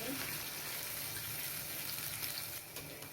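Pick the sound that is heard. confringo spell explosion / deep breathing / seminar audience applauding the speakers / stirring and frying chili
stirring and frying chili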